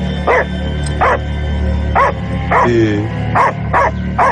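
A dog barks nearby in short, sharp, evenly spaced bursts, about seven barks over a low steady hum, with no talking.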